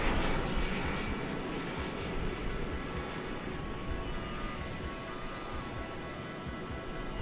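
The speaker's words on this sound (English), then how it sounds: "Let's look afar over to the east side for the arrival of this American Airlines jetliner" An American Airlines jetliner arrives at DFW Airport at night, its engines producing a broad, steady roar that stays at constant loudness throughout, with no speech.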